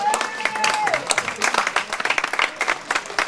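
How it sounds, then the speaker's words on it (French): An audience at a closing ceremony applauds care home staff, a few seconds of lively clapping that thins into separate claps, with a brief voice at the start. "on peut les applaudir très fort."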